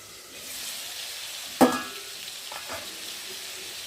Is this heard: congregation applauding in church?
no